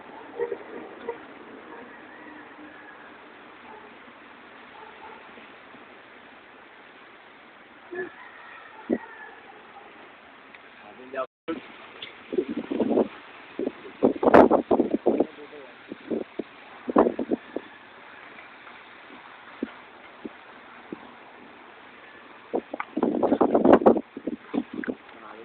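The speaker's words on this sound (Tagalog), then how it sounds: "Ang lakas ng hangin ho." Strong wind roars and buffets the microphone in gusty bursts, with a person talking in between the blasts.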